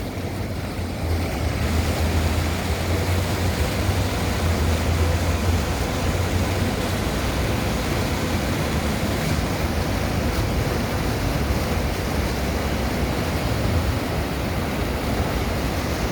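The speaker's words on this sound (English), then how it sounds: "I'll let you hear the water." Water splashing from a fountain in Daley Plaza, downtown Chicago, a dense, loud and continuous rush heard close up with wind buffeting the microphone, no talking.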